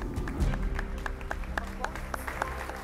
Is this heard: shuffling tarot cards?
no